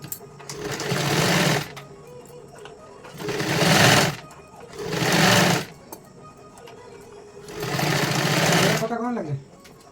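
Domestic sewing machine stitching a size 44 katori blouse, four loud close bursts of rapid mechanical whirring separated by short pauses, no talking.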